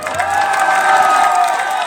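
A crowd at a gaushala event claps and cheers loudly together, a dense burst of applause with shouts lasting about two seconds.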